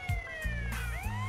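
A kitten in GTA San Andreas gives a few short, clear meows in quick succession while a siren keeps sweeping faintly in the background.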